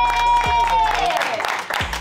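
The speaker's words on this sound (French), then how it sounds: "des applaudissements pour Shedley!" A small group of friends clap and cheer for the winner of an anime video game in a short, dense burst, mixed with loud game music and voices.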